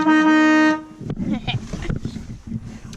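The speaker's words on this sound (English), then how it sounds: "Have you ever seen on the Mack trucks the big air horns they have?" A big truck-style air horn fitted to a car gives one loud, sustained blast with a steady harmonic tone lasting under a second, then cuts off to background street noise.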